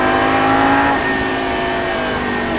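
Lamborghini engine revving hard in third gear, a loud, close roar that swells then settles into a steady high drone, with no talking.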